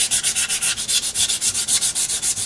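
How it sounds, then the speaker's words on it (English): Rust is sanded by hand with 220-grit sandpaper on a rear wheel part of a 1973 Honda CB750, giving quick, even back-and-forth rasping strokes up close with no talking. "after 5 minutes or so of some sanding with some 220"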